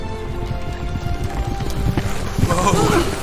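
Horses' hooves clip-clop at a trot through a dramatized woodland chase scene, a steady uneven patter running beneath voices and background sound for about three seconds.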